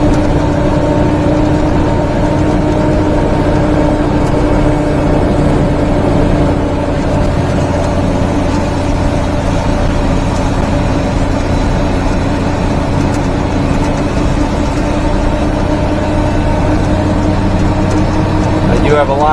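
Turbocharged car engine holding about six pounds of boost at roughly quarter throttle while climbing a long hill, a steady loud drone with low harmonics that stays level throughout.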